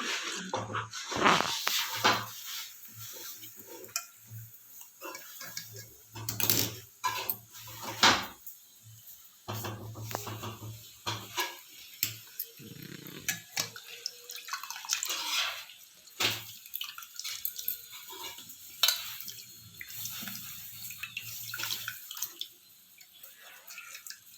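Boiled bitter gourd pieces being drained in a kitchen, with water splashing and trickling out in repeated bursts, along with clattering handling noises and faint background sounds.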